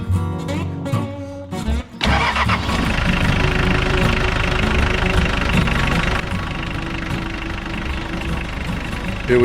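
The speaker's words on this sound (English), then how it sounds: "I'm gonna fire this thing up and see how the oil pressure responds on this cold start" A Ford Ranger engine cold-started on a hot day: a few seconds of cranking give way to a catch and a loud, steady mid-pitched idle that runs on evenly, close to the engine.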